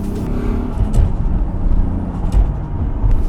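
Nissan R34 GT-R with an OS Giken 3.1-liter RB26 engine and OS 88 sequential gearbox, a loud, close, steady engine drone with small surges of revving as the car drives.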